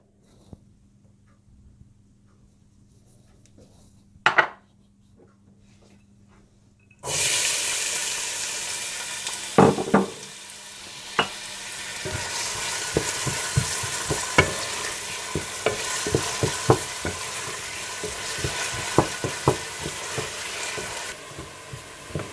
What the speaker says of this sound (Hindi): तेल गरम करें और इसमें प्याज डालकर हल्का सा ब्राउन कर लें।